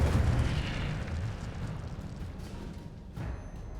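An Incendio fire spell cast in Hogwarts Legacy bursts into a loud, roaring whoosh of flame that sustains for a few seconds before tapering, with a rumbling low end and no talking over it.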